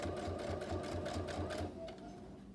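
A sewing machine runs steadily, stitching a fabric bag in a quick, even mechanical rhythm close up, slowing slightly near the end with no voices.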